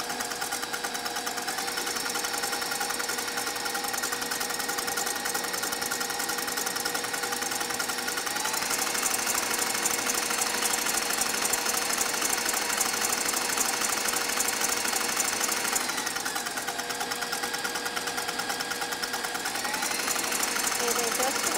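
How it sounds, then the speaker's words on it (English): A noisy electric mixer whips egg whites toward soft peaks, a continuous high whirring motor whine with shifts in pitch and speed across the run, loud and close. "our egg whites are just about finished mixing. I'm going to finish them off so we can turn off our noisy mixer"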